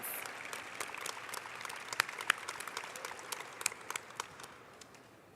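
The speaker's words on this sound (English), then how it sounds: "Can we get one more round of applause?" An audience claps steadily at a school science competition's closing ceremony, a soft, even patter of many hands heard from a distance and slowly fading out.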